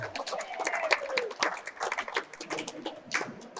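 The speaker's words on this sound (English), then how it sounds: "Let's give a round of applause for Lou Scialdone and Leo Giannotti." An indoor audience claps for two bocce players, a modest patter of applause with a few hollers and whoops mixed in, lasting a few seconds.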